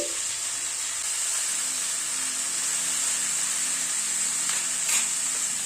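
Bottle gourd greens, stems and leaves, hit a hot pan of spiced oil and sizzle in a steady, close, loud hiss that lasts throughout.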